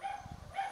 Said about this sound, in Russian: У Вали под забором коробка со щенками, а?